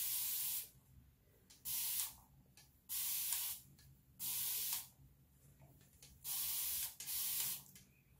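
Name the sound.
spraying hair product from a spray bottle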